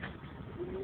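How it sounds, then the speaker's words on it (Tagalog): A pigeon cooing briefly and faintly, a single soft low coo with no talking. "Tingnan mo yung kalapati doon."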